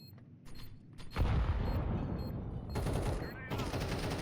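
Rapid gunfire bursts in a Counter-Strike match on the de_prodigy map, loud dense volleys that start after a quiet second and continue with a second burst near the end, with faint voices underneath.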